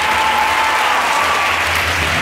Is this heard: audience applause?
yes